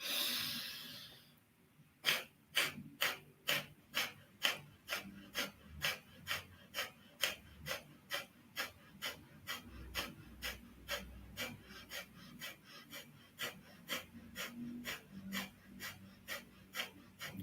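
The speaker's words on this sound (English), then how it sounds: "it's just nice, quick little breaths" Quick, evenly spaced breaths pushed out through the nose during a guided meditation, about two per second, close and crisp over a faint low room hum, with no talking.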